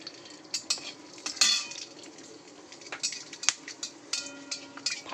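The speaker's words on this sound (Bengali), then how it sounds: "আমার তেতে গেছে, তেলের মধ্যে দিয়ে দেবো দেখো একটু গোটা গরম মশলা" Whole garam masala spices hit hot oil in a pan, giving sharp intermittent pops and crackles with metallic clinks over a quiet, faint sizzle, close and unaccompanied by speech.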